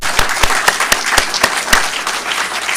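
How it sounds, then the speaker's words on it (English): Applause from a luncheon audience, with distinct individual claps landing in a loose, fairly even rhythm over a softer bed of clapping, close and lively for just under three seconds. "So let's give him an applause."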